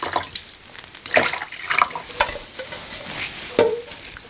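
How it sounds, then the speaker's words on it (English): Water pours and splashes into a bowl in several short, close gushes with pauses between them, set up as a simple toddler water-transfer activity at home. "So you just pour water in 1 bowl."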